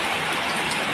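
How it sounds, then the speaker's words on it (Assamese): Heavy morning rain in Assam pours down as a dense, even hiss with no gaps, loud and close, with no voices. "এয়া চাওকচোন, বৰষুণ কালিৰ দৰে চেম বৰষুণ।"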